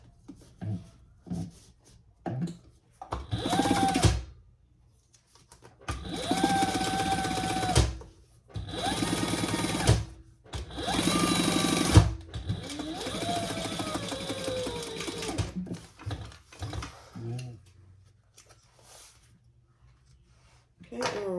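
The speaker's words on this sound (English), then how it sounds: "And then I'm going to fold it over and baste it nice and flat." Sewing machine basting a folded fabric pocket flat while making a bag, running in several bursts of a few seconds each separated by short pauses, close and moderately loud.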